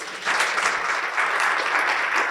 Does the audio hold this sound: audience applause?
yes